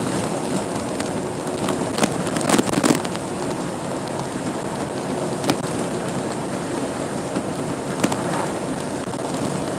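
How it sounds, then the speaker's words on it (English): Steady wind buffeting a microphone outdoors in a yard, a continuous broadband rumble with a few sharper gusts and crackles, no talking. "No, this wind's not doing me so good though."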